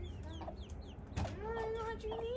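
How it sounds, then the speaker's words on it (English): Backyard chickens cluck softly in a garden, a few short calls and a drawn-out squawk heard at moderate distance over quiet outdoor ambience. "Pretty birds."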